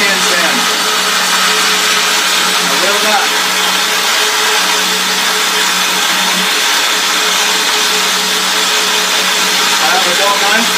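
A power tool with an angle iron setup grinds a secondary bevel onto a Cu Go Mai dagger blade, a loud, steady motor whine with gritty abrasive hiss running continuously, with a voice faintly present.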